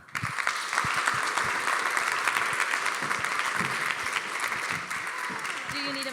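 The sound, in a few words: audience applause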